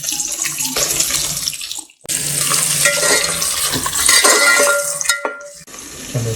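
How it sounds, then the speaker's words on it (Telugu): Onions and green chillies frying in a pot for farm chicken biryani, a loud, continuous hiss and sizzle with stirring scrapes, dropping out briefly midway before resuming at full strength. "ఈ ఉల్లిపాయలు చక్కగా మనకి గోల్డెన్ బ్రౌన్ వచ్చేదాకా వేగనివ్వాలన్నమాట"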